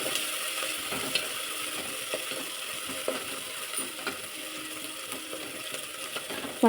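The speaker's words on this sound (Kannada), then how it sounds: "ಶುಂಠಿ ಬೆಳ್ಳುಳ್ಳಿ ಇದು ಹಸಿ ಸ್ಮೆಲ್ ಹೋಗೋವರೆಗೂ ಫ್ರೈ ಮಾಡ್ಕೊಳೋದು" Ginger and garlic fry in oil in a pan while sambar is being made, giving a steady hiss and sizzle with light stirring clicks throughout, close and moderately loud, with no talking.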